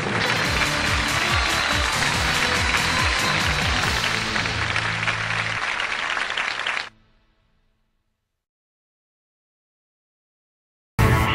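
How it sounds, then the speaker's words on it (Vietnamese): Dense audience applause at a televised game show roars for several seconds, loud and close, then cuts off abruptly into silence, with a brief burst returning at the very end. "chúng ta không ngần ngại gì mà cho chương trình một tràng pháo tay to nữa được không ạ?"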